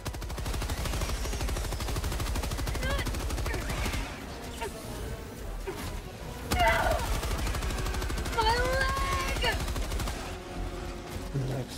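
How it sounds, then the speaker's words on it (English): Machine gun fire in the video game Helldivers 2, rapid sustained bursts with short pauses, mixed with other in-game effects and some talk. "I don't even see anything I can kill with the machine gun."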